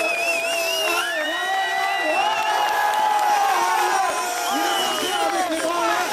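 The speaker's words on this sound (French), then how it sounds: "On peut applaudir" A crowd at the Montpellier 2011 racing final cheers and whoops for the driver on his lap of honour, shouts and calls rising over a steady background roar, with voices talking over it.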